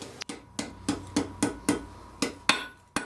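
Hammer blows forging the taper of a steel wall hook on an anvil, about ten sharp ringing metallic strikes at a fairly even pace, close and clear with no talking.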